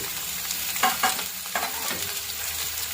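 Chopped green chillies and half a large onion sauté in a pan, a continuous close sizzle broken by a few sharp scrapes of a spoon stirring.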